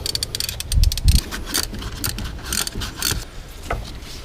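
Wrench working size 8 thermostat housing bolts loose on a 2011 Ford Fusion 2.5L, a run of close metallic clicks and scrapes with a few dull knocks, irregular and fairly loud.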